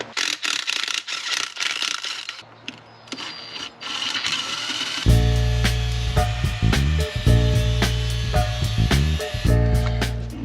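A power drill drives an M8x1.25 tap into a camber plate for a Toyota KE70/AE86 lift kit, a loud steady motor whine with grinding, uneven metal-on-metal cutting, preceded by quieter workshop rubbing.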